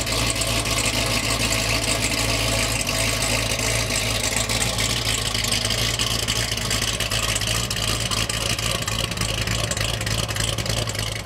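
A C6 Corvette's A&A supercharged LS3 V8 idling, a loud, steady, deep drone with a continuous low rumble and no breaks from start to finish.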